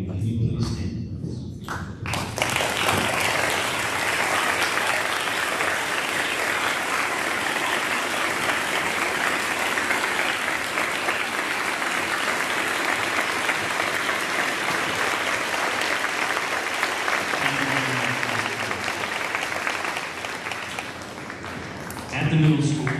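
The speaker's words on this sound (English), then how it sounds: "allow us to honor you with a round of applause" Sustained audience applause at a middle school Veterans Day ceremony honoring standing veterans, broad steady clapping filling the room for about twenty seconds before fading, with a few voices near the end.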